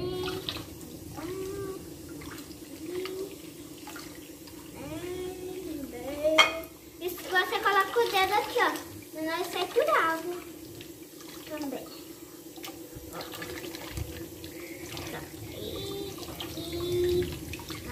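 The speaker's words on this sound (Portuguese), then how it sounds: "Por que tem que passar bastante sabão na louça?" Dishes are washed with soap under a running kitchen tap, with water splashing and pots, plates and cutlery clinking close by, while people talk over it.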